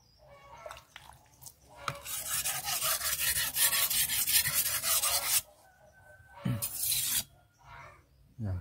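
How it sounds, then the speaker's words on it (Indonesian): A Banyuwangi-style steel sickle is sharpened on a whetstone, giving a close, loud, steady rasping rub. Long grinding strokes run for several seconds, then a pause and a shorter second stretch of scraping. "langsung coba ini mas, kita tes juga ini praktek kerja asah arit"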